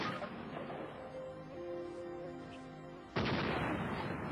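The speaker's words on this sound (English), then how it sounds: "The gun just exploded. It sounded like a hand grenade went off instead of a shotgun." A shotgun blows apart after a 3-inch Magnum shell is chambered, a sudden loud blast near the end that cuts abruptly through a steady low background.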